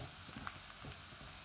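Garlic sautéing in a hot pan while cooking chicken adobo, a soft continuous sizzle with faint stirring, alone and fairly quiet for a brief moment.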